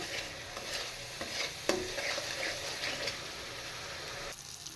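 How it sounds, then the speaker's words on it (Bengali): Salt, turmeric and chili powder fry in oil in a pan for a dish made with dried lentil dumplings, a close steady sizzle broken by scraping stirs of a spatula, with no talk. "এবার মশলাটা একটু ভালো করে ভেজে নেব"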